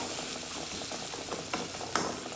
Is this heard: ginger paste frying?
yes